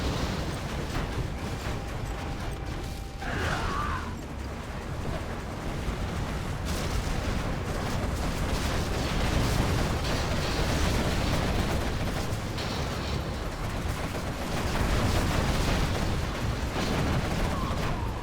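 Scud missile strikes explode in a real-time strategy battle, rumbling as a dense, continuous low roar of blasts and artillery-like booms that runs for the whole stretch with no talk.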